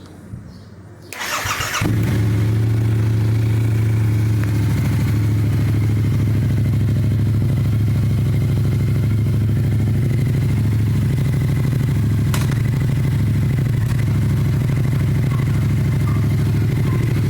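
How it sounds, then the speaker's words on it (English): A Yamaha R7 motorcycle fires up and then runs steadily in gear with its rear wheel spinning on a stand, a loud, close, even engine drone that holds for the rest of the stretch. "So we've got the bike running, back wheel spinning."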